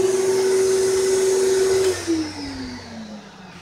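Shop vacuum running loud and close with a steady whine, dropping in pitch partway through as it is turned down to a lower setting, the roar continuing at a slightly reduced level.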